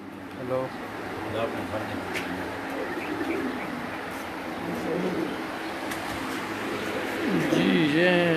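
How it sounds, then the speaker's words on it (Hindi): Soft, low pigeon coos repeat in the background while someone talks over steady ambient noise. "बहुत ही प्यारा कबूतर है जी"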